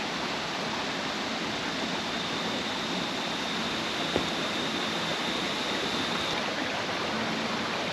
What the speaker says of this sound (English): So yes, there is a waterfall, but you don't have a very good viewing of it.